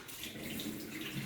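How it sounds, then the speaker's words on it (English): Tap water runs steadily into a wash basin in a school washroom, a soft continuous splashing stream heard alone and fairly faint. "Wash basins have continuous tap running water"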